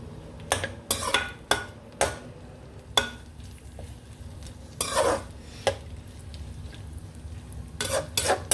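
Bitter gourd pieces fry in a pan under a soft, steady sizzle. A spatula stirs and scrapes with sharp clinks and knocks at irregular intervals, and nobody speaks.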